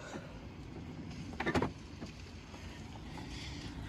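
Central locking on a Mercedes S-Class actuates all the door locks at once, a brief cluster of mechanical clunks and whirs in the middle of a quiet garage-like background.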